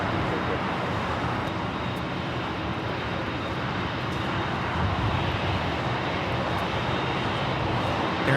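A Virgin Atlantic airliner takes off at Los Angeles International Airport, giving a steady, broad jet roar that holds level for several seconds and swells slightly near the end, with no voices.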